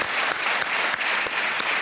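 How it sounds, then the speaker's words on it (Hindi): A studio audience on the quiz show Kaun Banega Crorepati breaks into loud, dense, sustained clapping that fills the whole moment without pause or talk. "एक बार जोरदार तालियां बज जाए"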